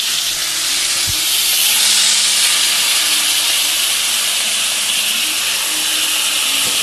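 Rib eye steaks sizzling loudly in a hot pan right after flipping, a dense, continuous close hiss that stays steady throughout, with one faint low thud and no voices.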